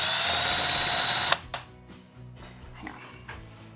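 A power drill drives a hose clamp screw in one loud whirring burst that stops abruptly, followed by a couple of faint knocks and quiet handling noises.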